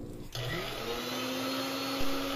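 A kitchen mixer grinder whirs loudly as it purees ginger, garlic, green chili and onion into a paste, switching on sharply after a brief quiet moment and then running as a steady, close, high-pitched drone.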